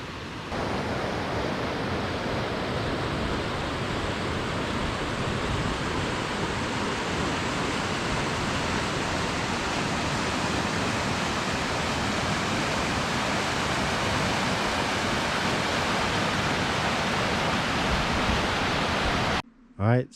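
River rapids at the Salmon Cascades on the Sol Duc River in Olympic National Park give a steady, loud, broadband rushing roar that barely changes for about twenty seconds, then cuts off briefly at the very end.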